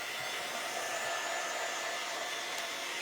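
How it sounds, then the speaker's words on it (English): A hair dryer blows steadily on red-painted wood beads being made into candy canes, giving a continuous close airy whoosh with no pauses and no voices. "I'm just drying it really good because I don't want any leakage onto my..."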